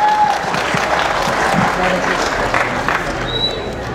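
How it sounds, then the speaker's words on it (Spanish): Audience applause fills a song contest hall in Ocotlán, Jalisco, steady and dense for the whole stretch, with crowd murmur mixed beneath the clapping. "le damos el aplauso cariñoso de ustedes para recibirlo en este espacio"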